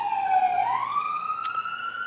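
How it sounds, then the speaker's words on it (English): A siren wails steadily, its pitch dipping and then rising in one smooth sweep, fairly loud and unbroken, with a brief sharp click near the end. "Siren. Appropriate timing."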